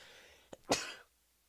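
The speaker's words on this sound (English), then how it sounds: "Sorry, I had to sneeze." A single short sneeze close by, a quick sharp intake followed by an explosive burst, then silence.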